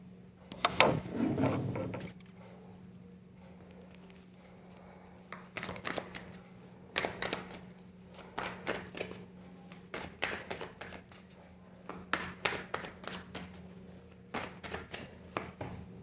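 Tarot cards are shuffled by hand in quick bursts of crisp riffling and flicking, close and fairly quiet over a low steady hum, with pauses between rounds and no talk.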